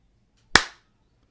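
One crisp hand clap, close and loud, with a short bright decay and nothing else around it.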